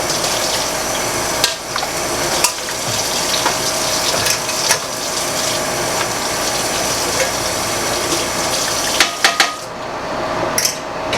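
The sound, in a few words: rinsing canning jars and racks with water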